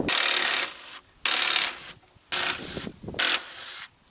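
A ratchet undoes 10mm bolts on the upper radiator brackets of a Ford Festiva, heard as four close, loud bursts of rapid clicking separated by short pauses.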